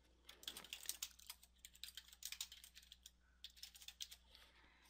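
Quick bursts of typing on a computer keyboard, entering a name into a Salesforce campaign form; light, close clicks in irregular clusters with short pauses between runs, no voices.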